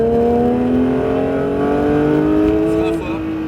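A Porsche 911 GT3 on the Circuit de Mireval rises in pitch as it accelerates hard, a loud, smooth howl that drops briefly at a gear change, with a voice talking over it.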